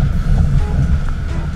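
Fishing boat runs out through choppy Gulf water off Orange Beach, engine rumble and hull slapping waves mixed with wind buffeting the microphone, loud and close throughout.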